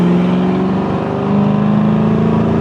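A 1968 Mustang Fastback restomod's engine pulls hard under acceleration, a loud, steady, close engine drone whose pitch climbs slightly partway through, with no voices.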